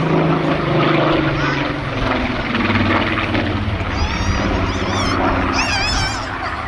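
A propeller aircraft from an RAF meteorological flight unit drones loudly and steadily at an air festival, with the crowd and chatter of the showground heard beneath it throughout.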